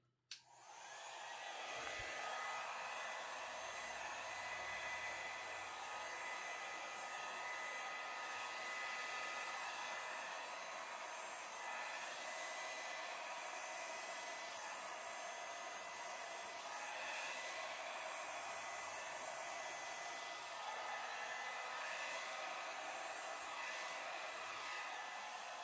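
A hair dryer blows steadily over a Dutch-pour acrylic painting, pushing the wet paint out toward the edges; a continuous close airy roar runs alone for the whole stretch after a brief click at the start.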